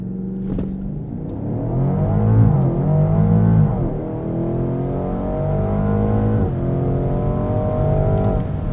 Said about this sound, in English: I think I want to do one more launch